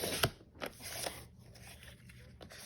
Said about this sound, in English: I'm going to cut this one to 5 inches.